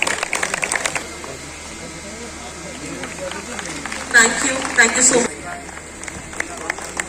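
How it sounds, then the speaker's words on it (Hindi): Audience clapping at a heart-health walkathon event in Bulandshahr, a brief burst of applause rising midway under someone speaking into a microphone, with crowd noise around it. "एक बार जोरदार ताली हो जाए।"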